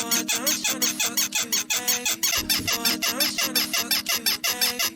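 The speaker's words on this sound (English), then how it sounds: "we are gonna take the bed squeak and we're gonna stretch it" Time-stretched bed squeak sample repeating in a jersey club beat built in FL Studio: rapid, rhythmic, pitched creaking squeals looping evenly with a low hit midway, loud and upfront, no talk.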